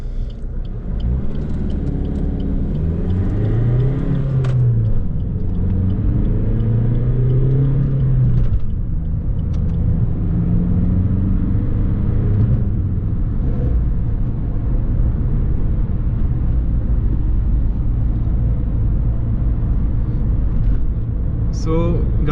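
Maruti Suzuki S-Cross with a 1.6 diesel engine pulls away from a standstill in first gear, its engine note rising in pitch through the gears as a steady low road rumble continues beneath someone talking throughout.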